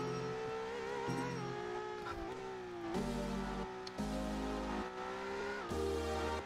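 A maxed-out Mercedes-AMG Project One hypercar in the Roblox game Driving Empire revs and shifts through gears, a steady engine drone rising in pitch with abrupt gear changes and faint tire squeal, no talk.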